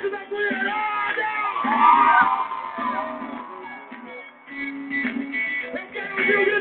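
Concert crowd of women screaming and cheering at a live show, a loud sustained wash of high shrieks and yells rising and falling, mixed with music and a shouting voice.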